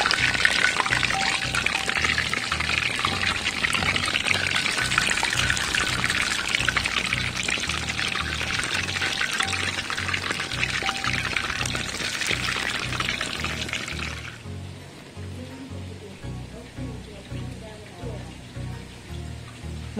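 Water poured steadily while preparing modakam dough at home, a continuous hissing stream lasting about fourteen seconds before it cuts off to quieter background.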